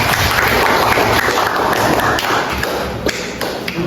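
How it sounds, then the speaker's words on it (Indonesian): Students in an Islamic senior high school classroom at MAN 1 Muko-Muko clap together for a classmate, a close, dense burst of tapping claps that thins out and fades over a few seconds. "Beri tepuk tangan untuk Abdi."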